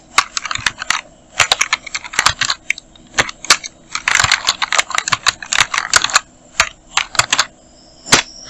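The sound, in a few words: typing on a computer keyboard in Photoshop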